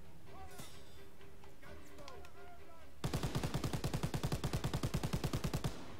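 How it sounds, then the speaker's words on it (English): Gunfire in the World War II shooter Call of Duty: WW2 opens with chatter and scattered battle noise, then a loud, rapid burst of machine-gun fire rattles for about three seconds before cutting off. "I'm over here shooting down the building."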